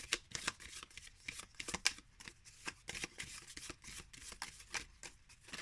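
Riffle-style shuffling of a small 22-card Gold Moon Tarot deck, a quick run of soft papery flutters and taps repeated steadily at close range, with no talking.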